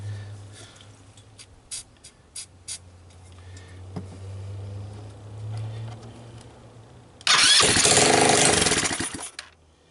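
A small off-road go-kart engine on a bench, primed with starting fluid, sputters to life after a few clicks and handling noises, then roars loudly for about two seconds before cutting out.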